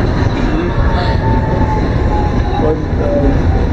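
A tram rolling between stops in a German town, a steady rumbling ride with wheel and rail noise filling the cabin throughout, close and continuous, with faint squeals.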